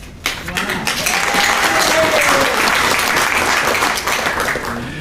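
Dense, sustained audience applause at a ceremony, swelling quickly and holding steady for several seconds before easing slightly.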